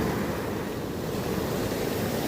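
Strong sea waves at Baler beach make a steady, loud roar of surf that fills the whole stretch without letup, with some wind noise on the microphone.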